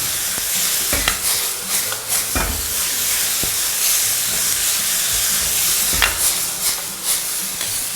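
Vegetables stir-frying in a wok give a loud steady sizzle and hiss with a few sharp clanks of the tossing spatula, no talk.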